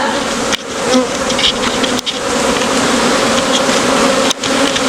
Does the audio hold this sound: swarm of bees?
yes